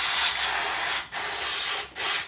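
Waxoyl rust protection is sprayed into a vehicle bulkhead around welded tubes, a close hissing aerosol burst in three pulses separated by short breaks.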